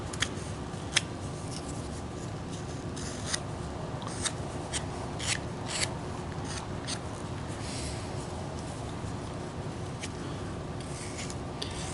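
Quiet scraping and crisp snicks of a blade carving wood off a decorative crow spoon, irregular close-up strokes over a soft background hiss.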